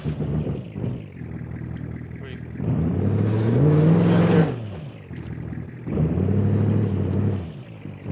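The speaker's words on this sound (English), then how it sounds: "it's a 1300 horsepower drag truck, which somehow has amazing capability of off-road" A 1300 horsepower drag truck in the BeamNG driving game revs loudly, its engine note swelling into a strong rising surge midway and again near the end, with harmonic rumble throughout.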